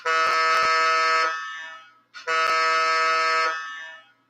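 Two long, steady electronic model train horn blasts from a layout's sound system, each about one and a half seconds, separated by a short gap; loud, near and harmonic, with a few clicks at the start.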